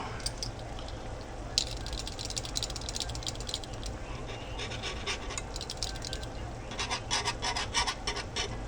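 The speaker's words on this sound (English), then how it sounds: "I'm just going to whisk it in there" Whisk beating ingredients in a pot for taco nachos, a quiet, quick rhythmic scraping and rattling against the pot, coming in uneven bursts over a low background hum.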